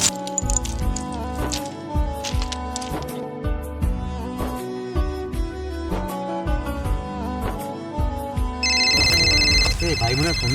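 A phone ringtone rings as a repeating melodic tune, loud and close, in a Bangla drama scene. The pattern shifts into a brighter tone near the end.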